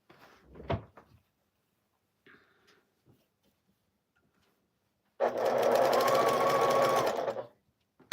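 A sewing machine runs steadily for about two seconds near the end while quilting scraps, preceded by a few soft knocks and handling sounds in an otherwise quiet room.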